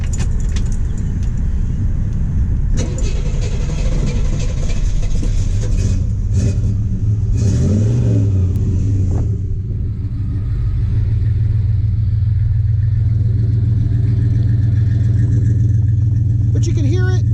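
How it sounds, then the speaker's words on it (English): A 1965 Buick Skylark V8 with Flowmaster mufflers idles and revs nearby, a deep steady exhaust rumble swelling through a couple of throttle blips, with someone talking over it for much of the time. "it's got Flowmaster mufflers. This thing sounds really good."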